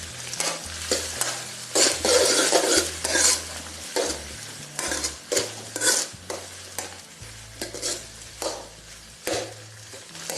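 Tomatoes, onions and green chillies sauté in a pan, a loud nearby sizzle broken by rhythmic scraping strokes of a spoon stirring throughout.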